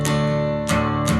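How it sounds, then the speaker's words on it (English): Guitar in drop D tuning sounding a droning pedal D, with the low note ringing steadily under strummed chords and two bright strum attacks, close and full. "you can create a droning bass note that sounds a bit like this."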